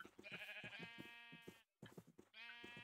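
Sheep in a Minecraft game bleat repeatedly in a herd, quavering calls close together with a brief gap near the middle, all fairly faint.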